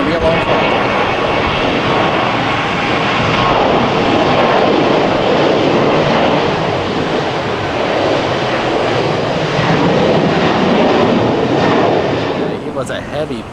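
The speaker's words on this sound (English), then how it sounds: "Was a heavy plane. That is a full flight, and it doesn't take off quickly." A heavy, fully loaded airliner on its takeoff run at Atlanta, bound for Delhi, gives a steady, loud broadband jet-engine roar that holds for the whole stretch and eases slightly at the very end.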